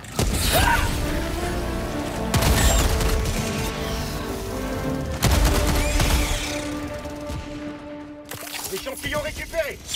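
A grenade blast and rapid gunfire in Helldivers 2 form loud, crashing bursts with repeated volleys and metallic clatter, while voices shout over the chaos.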